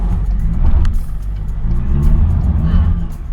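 Toyota Innova Hybrid converted to front-wheel drive accelerating uphill on a wet surface: a steady, loud, close engine-and-road rumble that builds slightly, with no talk over it.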